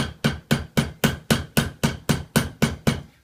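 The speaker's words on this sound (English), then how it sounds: "Now on the steel mandrel, just get the mallet," A mallet strikes sheet metal held on a steel mandrel while a Guernsey milk can is being formed: about eleven sharp, evenly spaced blows, close and loud, each ringing briefly before the next, with no talk.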